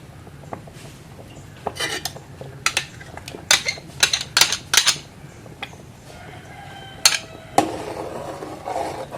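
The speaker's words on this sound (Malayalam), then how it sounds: "ഇതിലേക്ക് കാച്ചി വെച്ചേക്കുന്ന ചവ്വരി ഒഴിച്ചു കൊടുക്കാം" Cooked sago is poured into jackfruit payasam in a pot, with metallic clinks and scraping taps of a utensil against the vessel coming in scattered bursts, a few louder knocks standing out.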